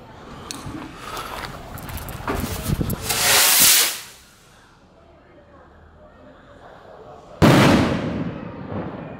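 A 20-gram kwitis skyrocket firecracker with a titanium tail, packed Yakult-bottle style, ignites with a hissing, crackling burst that builds loudly, cuts off, then a second sharp blast erupts near the end, with voices around it.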